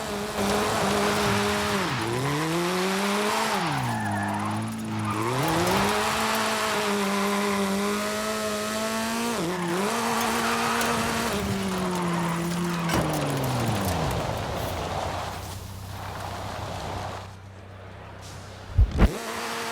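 A car drifting in Forza Horizon 5 after a power upgrade, its engine note loud and continuous, rising and falling through revs with tire squeal, then dropping to a low idle hum near the end.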